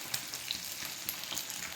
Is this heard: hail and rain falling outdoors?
no